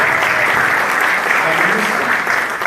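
A room full of people at a chamber of commerce gathering breaks into sustained, lively applause, with some voices mixed into the clapping.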